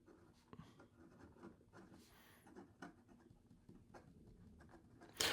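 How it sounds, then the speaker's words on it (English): An extra fine fountain pen nib on a Leonardo Mosaico writing on paper, writing reversed, gives faint, slightly scratchy strokes in short bursts with pauses, ending in a louder scrape. "The ink flow is decent coming out of this nib in regard to reverse writing."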